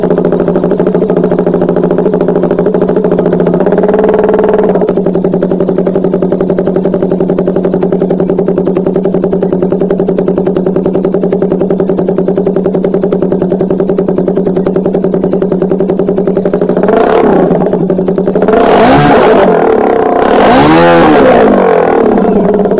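A sports motorcycle engine idles steadily up close for most of the stretch, then blips its throttle in a few sharp revs toward the end.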